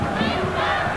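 A football crowd in a stadium roars and chants steadily throughout, loud and continuous, at a 2003 Under-20 World Cup match between Japan and Brazil.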